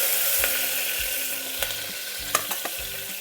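Ginger, green chilies and dried chilies fry in hot oil in a pan, giving a steady close sizzle broken by a few sharp pops and spatters, with no voices.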